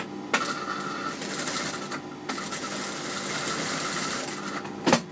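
A sewing machine runs in steady bursts while stitching around a curve on lined trousers, with a brief pause partway through and a clack near the end.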